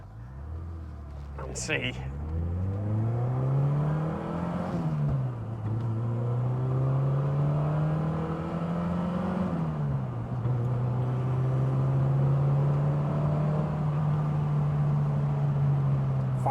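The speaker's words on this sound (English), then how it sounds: "Let's just take it up through the gears again" A car engine climbs through the gears on a test drive, the tone rising and then dropping at each shift, several times over. A short voice cuts in near the start, and the engine then holds a steady drone.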